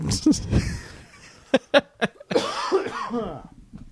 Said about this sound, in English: Man, I'm coughing a lot this week.